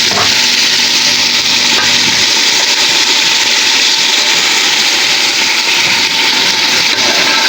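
Mixed vegetables for a Chinese-style stir dish poured into a hot pan, a loud burst of frying that settles into a dense, steady hiss filling the whole clip at close range.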